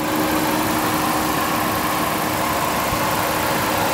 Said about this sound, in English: Everything idling nice and smooth.